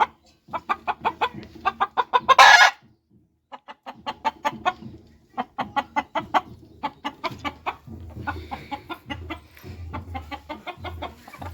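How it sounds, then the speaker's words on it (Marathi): Black Kadaknath chickens clucking in a steady run of short calls with a brief louder squawk, several birds close by with a little background rustle. "इथं हे काळी काळी कडकनाथ कोंबडी"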